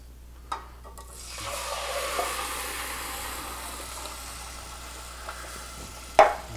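Tomato sauce sizzles softly in a hot pan set on low heat, a faint steady hiss that swells after a small splash and holds evenly, with a sharper clatter near the end.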